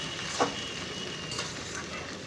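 Fish head and dal being stirred with spices in a wok for Bengali muri ghonto made with a large katla fish head, a soft sizzling hiss with a brief scrape of the spatula near the start.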